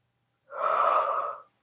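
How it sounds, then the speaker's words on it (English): A single drawn-out yawn from a woman, breathy and close, lasting about a second with silence on either side. "excuse me for yawning"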